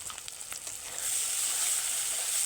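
Kashmiri chilli powder, cumin powder and turmeric frying in a pan while stirred, a close, hissing sizzle that swells and holds steady after a few light scraping strokes.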